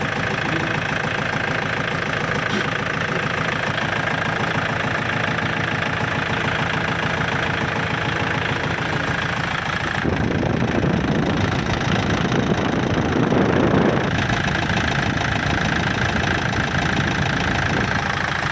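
A tractor's diesel engine runs loud and steady with a rough knocking chug, swelling into a harsher, louder roar for a few seconds midway before settling back to the same idle, with no talking.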